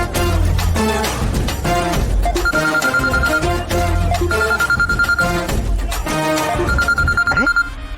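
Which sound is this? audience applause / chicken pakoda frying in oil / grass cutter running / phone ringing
phone ringing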